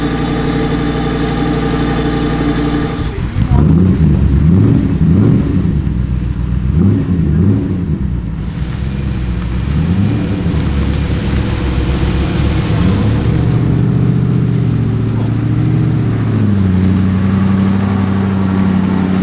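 A Lamborghini Miura SV at an exclusive Lamborghini event, its engine idling with a low rumble, then starting and revving in several throaty rising and falling bursts, close and loud, settling back to a steady idle.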